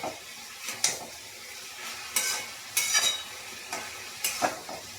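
Chicken puff masala filling stirred and scraped in a frying pan, sizzling steadily with repeated bright scraping strokes of a spoon against the pan at irregular intervals, close and fairly loud with no talking.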